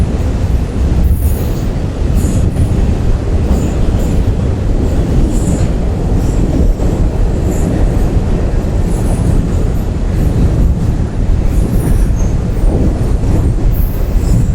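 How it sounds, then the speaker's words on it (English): A China Railway train rumbles past close by near a village, wheels clattering and occasionally squealing in a loud, continuous roar with no one speaking. "we have a train coming over our shoulder here"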